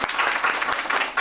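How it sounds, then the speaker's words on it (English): A round of applause crackles from a dinner crowd honouring a visiting Pakistani legal delegation, dense steady clapping from many hands for a little over a second. "Qadri Sahab, big round of applause for Qadri Sahab, please."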